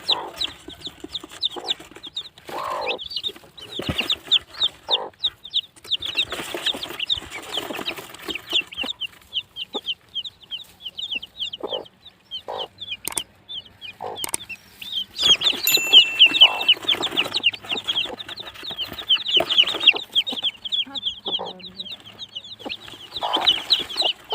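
Chickens cluck and chatter continuously in a busy flock, with bursts of squawking and some rustling, close by and lively with no talking.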